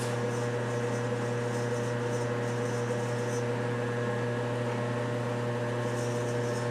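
A steady mechanical drone from an oil film strength bearing test machine running continuously, with a constant low hum and a broad whirring noise, even in level throughout.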